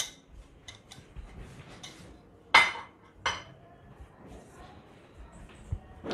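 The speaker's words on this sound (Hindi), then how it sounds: "Mixing it together now." Salad ingredients are tossed together in a bowl, with scattered light clinks and ticks of utensils against the dish, one sharper knock midway and a few softer taps around it.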